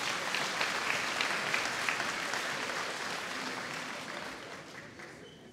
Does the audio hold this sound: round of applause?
yes